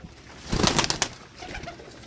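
Pigeons coo and flutter indoors in a brief burst of soft wing flaps and throaty calls, close by, then trail off into quieter rustling.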